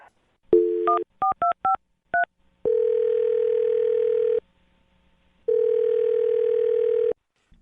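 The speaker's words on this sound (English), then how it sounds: "I'm going to dial his phone number right now" A telephone being dialed: a short burst of quick touch-tone beeps, then two long steady ringback tones separated by silence, clean and close with no talk.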